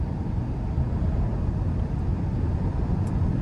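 A 2023 Lexus LC500 convertible hums at a steady low drone from inside the car while cruising, an even, continuous exhaust and road tone without talk.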